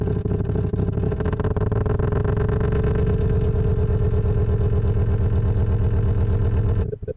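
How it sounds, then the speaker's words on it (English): Simulated Yamaha R1 four-cylinder motorbike engine in Next Gen Engine Simulator, running at a steady loud idle with a dense buzzing drone throughout, cutting off abruptly near the end. "we've now got an R1 engine, so a motorbike engine"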